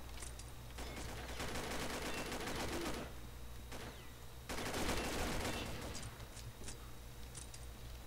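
Automatic fire from a G36E rifle in the shooter game Combat Arms, rapid bursts of shots sounding close and loud, with a short pause in the middle before firing resumes.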